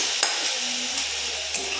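A spatula stirs chhena and milk in a frying pan with soft scraping taps over a steady sizzle, close and fairly quiet.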